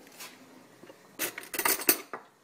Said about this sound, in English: we pour a certain amount of this polymorph into boiling water